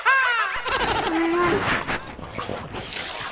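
A goat or sheep bleats loudly and close by in a village setting, a wavering cry followed by further rough animal calls and background voices.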